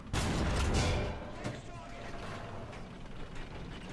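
A tank cannon fires in a T-64 tank simulator game, a loud, deep boom up front that fades into a long low rumble.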